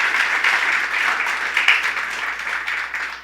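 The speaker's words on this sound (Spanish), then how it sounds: "Denle un aplauso al Señor." A church congregation applauds in a steady wash of many hands clapping at once, fairly loud and sustained throughout, with no clear talk over it.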